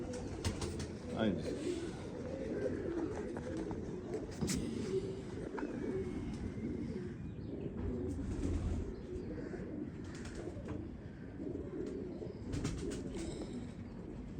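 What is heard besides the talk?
pigeons cooing in a pigeon loft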